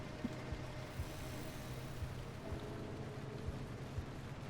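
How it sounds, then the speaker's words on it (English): Heavy rain in the video game Pacific Drive, a steady, dense broadband wash of rainfall with low rumbling undertones and occasional soft thumps, continuous and fairly quiet throughout with no talking. "Yeah, it's heavy rain and there's a lot of lightning anomalies around."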